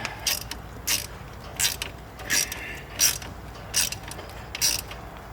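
A vise grip being tightened down, giving a series of regular ratcheting clicks in short bursts about every 0.7 seconds, close and moderately loud, with no voice heard.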